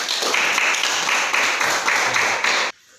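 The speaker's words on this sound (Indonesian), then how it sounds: "Silakan tepuk tangan." A classroom of students claps together in a dense, steady burst of applause for the winning group, then stops abruptly, leaving near silence.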